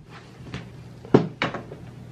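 A gate swings open indoors in a home, giving a few short knocking clunks and a louder latch-like clack near the end, close and fairly loud with no talking.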